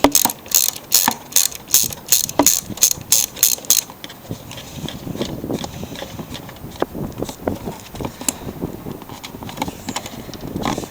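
Ratchet cranking on a 3/8-inch bolt holding the plastic plate of a Toro Super Recycler mower: a rapid run of sharp, evenly spaced clicks up close, then looser clinks and handling noise.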